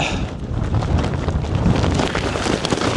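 Strong wind buffets the microphone on a mountain summit during a thunderstorm, a loud continuous roar with gusty surges throughout and no voices.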